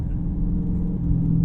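A Dodge Charger Pursuit police car with a Hemi V8 engine rumbles steadily from inside the cabin, a loud, low, continuous growl with no talk over it.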